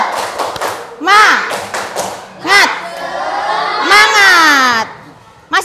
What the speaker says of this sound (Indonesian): coba kita tepuk semangat terlebih dahulu